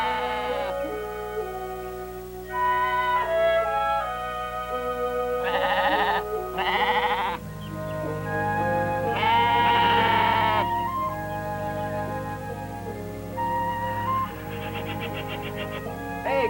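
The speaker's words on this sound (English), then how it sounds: "Hey, a couple of sheep out there." Sheep bleating on a farm in a mystery drama, several drawn-out bleats repeating over about sixteen seconds against a steady background, fairly close and prominent with no talk over them.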